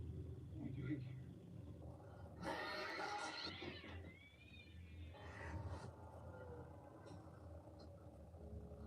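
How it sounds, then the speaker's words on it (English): A voice, as in The Grudge, meows like a cat in drawn-out, wailing cries, two or three strained calls spaced a few seconds apart over a murmuring background. "he does meow like a cat whenever he opens his mouth"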